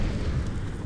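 A grenade detonates during a professional Counter-Strike match, a short, loud, rumbling boom that fills the whole moment with dense low-end roar and no voices.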